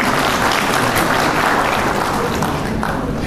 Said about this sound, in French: Et vous aussi, on demande votre accord en applaudissant à cette procédure-là.